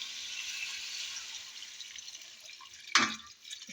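About two glasses of water are poured into chicken korma in a pot, giving a close, continuous splashing pour that fades, followed by one sharp clatter near the end.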